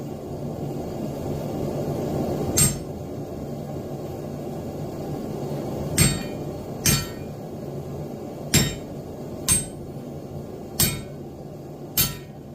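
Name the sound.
hammer striking a leaf forging tool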